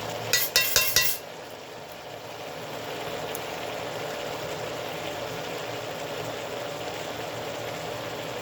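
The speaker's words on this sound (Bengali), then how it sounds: "সরষে বাটাটা দিয়ে নাড়াচাড়া করবো ভালো করে" A few quick clinks of a utensil against a pan at the start, then a soft steady stirring hiss as mustard paste is worked into boiled Malabar spinach, close and unvoiced.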